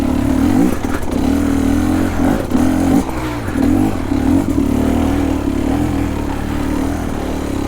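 Beta Xtrainer 300 two-stroke dirt bike engine revved hard, a loud, close, buzzing drone that dips and surges in repeated blips before settling into a steady high rev.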